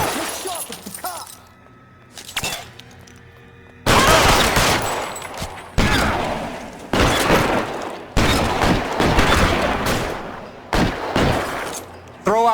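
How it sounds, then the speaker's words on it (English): Gunfight in L.A. Noire, with close, loud bursts of gunfire and breaking glass arriving in repeated heavy waves, separated by brief quieter gaps where voices can be heard. "Covering fire!"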